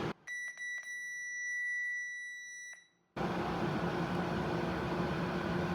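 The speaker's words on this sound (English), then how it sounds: "All right, eruption of beeps." A Permobil electric wheelchair gives a burst of several sharp electronic beeps followed by a long steady tone, then a sudden switch to loud broadband noise.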